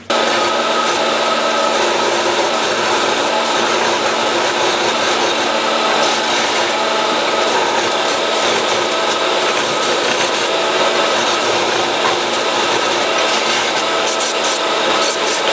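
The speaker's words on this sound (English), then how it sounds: "now I just need to sand these corners nice and round" Steady, loud abrasive sanding rounds the corners of freshly bandsawed steel pieces for a homemade post hole digger attachment, a continuous gritty grinding with a motor whine and no pauses or talk.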